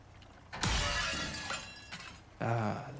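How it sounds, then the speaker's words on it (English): Glass shatters loudly in the survival game Icarus, a sharp crash that rings out and tails off over a second or so, followed by a second burst of breaking debris. "Ah, the sound of breaking glass."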